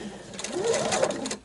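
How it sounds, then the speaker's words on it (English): A sewing machine running at home, a steady close whirring stitch sound, with a bird's cooing mixed in from an open window. "what little noise you'll hear over the sewing machine"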